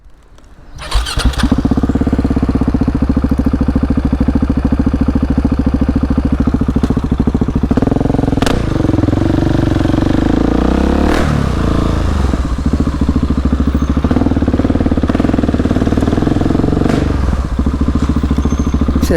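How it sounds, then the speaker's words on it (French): A motorcycle engine starts with a clatter, then idles loudly and steadily, with a few revs and thumps along the way. "C'est cette moto, comment elle fait du bruit"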